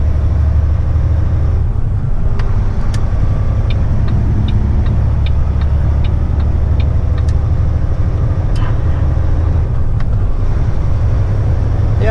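A heavy haul truck hauling a 39,500 lb roll of rubber picks up speed, with a loud, steady low engine drone heard from inside the cab and regular ticking clicks over it.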